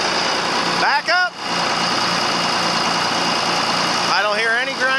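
A John Deere 4430 tractor, recently rebuilt from pieces, idles in a steady, close diesel rumble, with voices talking briefly over it near the start and end.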